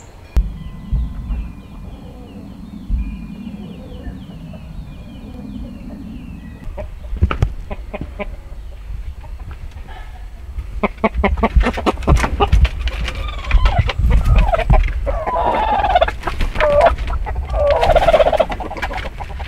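Backyard chicken flock with a broody hen sitting on eggs, heard as repeated clucks and gobbling fowl calls that grow denser and louder over the second half, with a low rumble underneath.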